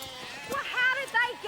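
Sheep bleat on a farm, several wavering bleats in quick succession close by, and a person speaks alongside them.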